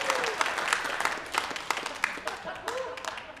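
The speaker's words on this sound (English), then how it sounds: "Give Kyle a round of applause" Audience applause for a man named Kyle during a church sermon, a steady burst of many hands clapping close and full for several seconds, with a brief voice rising partway through.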